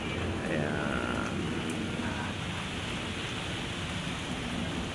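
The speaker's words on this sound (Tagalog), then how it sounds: "Umuulan. Naulan ng umagang Friday." Rain falling on a Friday morning by Manila Bay, a dense, steady hiss of rainfall filling the whole stretch, continuous and fairly loud with faint background sounds and no clear talk.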